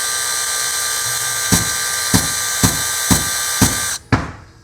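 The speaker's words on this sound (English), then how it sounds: "I'm gonna go ahead and sand the edge of the bottom just a little bit" Sandpaper rasps against the bottom edge of a wooden deck plug in five short, evenly spaced strokes, then one harder scrape, all close and crisp over a steady background hum.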